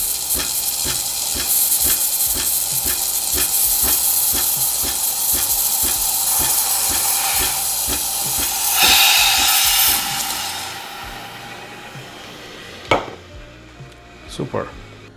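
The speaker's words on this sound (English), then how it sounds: "So obviously I can see it's steaming so well" A Breville Cafe Roma espresso machine's steam wand steams with a loud, steady hiss under rhythmic pulsing from the machine, rising in intensity, then cutting off, followed by a few clicks and clunks.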